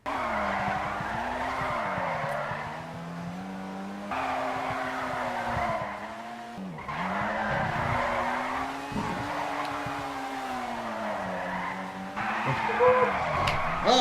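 A mid-engine Le Mans race car in GTA 5 slides sideways, its engine droning in long wavering pitch sweeps under constant tire squeal, with abrupt drops and surges as it shifts between slides.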